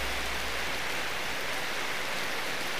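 Continuous hiss of rain falling, soft and even, with a low rumble fading in the first second.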